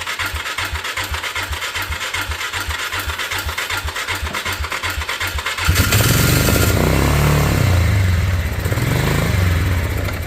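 A 2010 Polaris 400 AWD ATV engine chugs in a steady low rhythm, then revs up loudly and runs rough and strong, close by.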